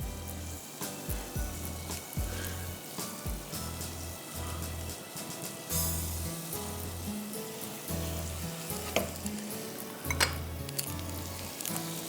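Onions fry in a pan, a constant soft sizzle under quiet background music, broken by occasional scraping and clinking as they get stirred, with a louder burst of spitting near the end.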